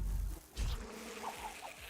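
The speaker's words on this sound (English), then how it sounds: "Send in the bees." Bees buzz in The Last Spell, a short, moderately quiet burst of insect droning with a couple of brief swells, heard without talk.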